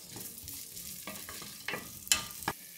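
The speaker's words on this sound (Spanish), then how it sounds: "Y la vamos a poner a citronar." A quarter of a chopped onion sautés in a frying pan with a little oil, giving a quiet, steady sizzle broken by a few brief scraping stirs and clinks of a utensil against the pan.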